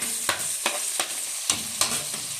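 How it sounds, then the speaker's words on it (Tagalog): Garlic, onion and tomato sautéing in a pan, a close sizzle broken by five or six sharp, regular scrapes of a spatula being stirred through, with no voices. "nagisa na po natin ang bawang sibuyas at saka kamatis"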